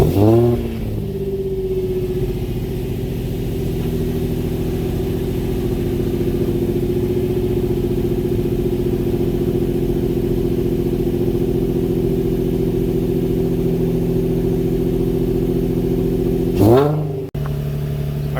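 Car engine cold-started and held at a steady raised rev with exhaust drone for most of the clip, then a couple of sharp quick revs near the end, loud and close with no talking.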